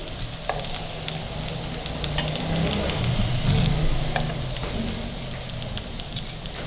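A chicken patty fries in a pan, giving a steady close sizzle and crackle with a few light stirring or scraping sounds and no talk.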